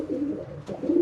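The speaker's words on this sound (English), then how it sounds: "Well, he's a bonny pigeon" Domestic pigeon of a Herman's Coosters type cooing in a loft, two low throaty coos close to the microphone with a short gap between them, no one talking.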